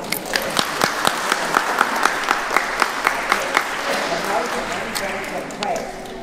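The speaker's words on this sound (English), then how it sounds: "So please, a round of applause." An audience at a casino night fundraiser claps steadily, with sharp individual claps standing out near the microphone over the crowd's broader applause and some talk mixed in.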